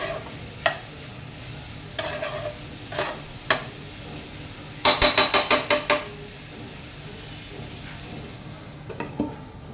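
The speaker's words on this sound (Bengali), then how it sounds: "তো আমি হচ্ছে এটা ভালো করে মিক্স করে নাড়াচাড়া দিয়ে ঢাকা দিয়ে ঢেকে দিব একটু।" Okra being stirred in a hot cooking pan, with a series of scraping, clattering strokes, the busiest run clustered midway, over a soft sizzle of frying.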